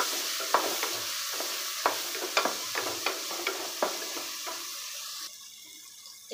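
Beans, carrot, onion and tomato fry in oil, with a steady sizzle broken by regular scraping stirs, close and fairly quiet, ending in a brief run of water.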